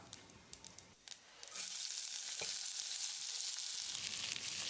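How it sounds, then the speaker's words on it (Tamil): Sliced onions start frying in a pan with a sudden loud sizzle after a few light clinks, then a steady, bright hiss continues without pause. "வெங்காயம் நல்லா செவந்து வர்ற அளவுக்கு வதங்கணும்."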